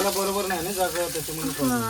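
Ribbon fish frying on a tava over a wood-fired chulha, a steady sizzle with a voice talking over it throughout.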